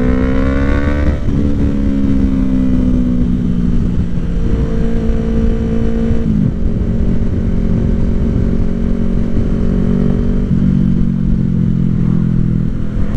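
Ducati Streetfighter motorcycle engine running alongside a Nissan GTR on a road, a loud steady drone with shifting pitch as revs rise and fall, no talking.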